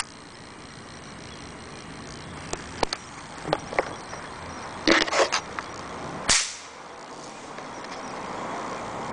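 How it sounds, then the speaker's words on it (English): Outdoor launch of a pop can rocket filled with a cornstarch and water mixture: a few scattered sharp clicks, then a quick cluster of pops and a short rushing whoosh, all fairly distant. "This is take three of the pop can rocket."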